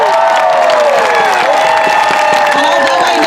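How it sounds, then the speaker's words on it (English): Crowd at an outdoor March for Life rally applauds and cheers, loud and dense, with whoops and sustained voices mixed into the clapping from start to end. "Can we give God a round of applause?"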